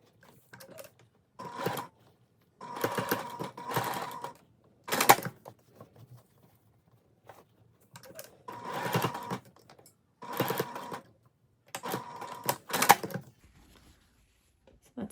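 A sewing machine bastes rickrack onto the straps of a bodice, running in several short bursts of rapid stitching separated by quiet pauses, close and clear with no talking.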